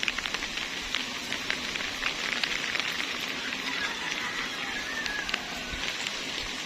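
Heavy rain from Storm Kristine pattering densely on a garden in Camarines Sur, Bicol, a steady hissing downpour with scattered louder drops throughout, no talking.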